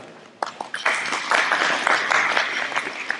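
Applause at a judo and jiu-jitsu spring camp as an assistant comes up to the mat: a few sharp claps, then a brief, moderately loud burst of group clapping, with a few whistles or cheers.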